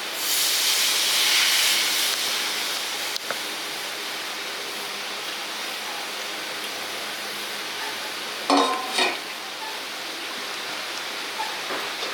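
Prawn malai curry with coconut milk simmering in a pan, giving a steady soft hiss and bubble that holds for a long stretch, with a brief louder burst of sputtering near the end.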